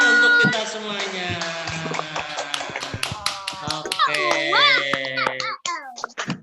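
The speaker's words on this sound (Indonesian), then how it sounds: "tepuk tangan untuk kita semuanya" Children in a classroom clap in a quick scattered burst of sharp hand claps over a sung melody, with young voices chattering alongside and trailing off near the end.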